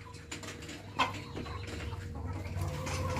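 A rooster with a crooked, malformed tail clucks and calls in a farmyard, its voice mid-distance over steady low background noise, with a brief sharper note early on.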